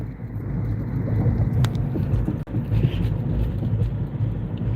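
Steady low rumble of a car driving along a road, heard from inside the cabin, with continuous engine and tyre noise and no talking.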